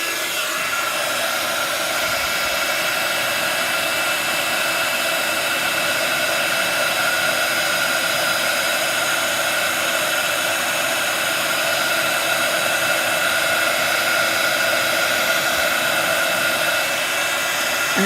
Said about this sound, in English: move the heat gun